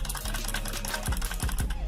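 A Genius K10 mechanical gaming keyboard with blue switches clatters as it is typed on, giving quick clicky keystrokes close up, loudest in a short burst toward the end.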